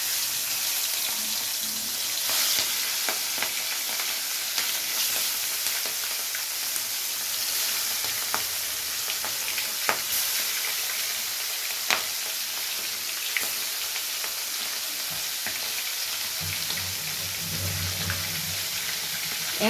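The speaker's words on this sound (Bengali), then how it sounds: "এবারে এক এক করে মাছগুলো তেলের মধ্যে দিয়ে ভেজে নেব।" Prawns in hot mustard oil in a karahi give a continuous close sizzle with scattered sharp pops and crackles, later joined by a low rumbling, with no talking.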